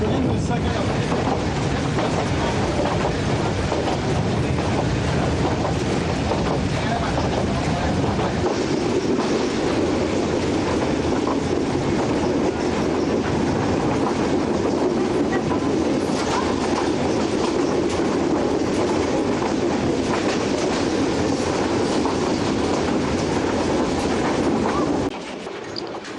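Railway wagons rolling over the rails in Myanmar, a loud continuous rumble with rhythmic clatter that goes on for the whole stretch and eases off at the very end.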